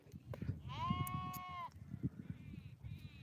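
Young lambs bleat in several drawn-out, wavering cries, fairly close, among a flock of sheep, with low background chatter and rustling underneath.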